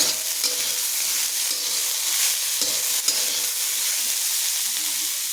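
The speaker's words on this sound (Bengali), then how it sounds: "সামান্য পরিমাণ লবণ দিয়ে এটাকে আমি নাড়াচাড়া করে হালকা ভেজে নেব" Something being stirred and lightly fried with a pinch of salt in a pan while making upma, a steady close sizzle with soft scraping stir strokes throughout.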